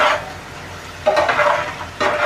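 Ingredients for a restaurant-style Schezwan chutney cooking in a pan: a moderate, close sizzle broken by a few bursts of stirring and scraping, with no voices.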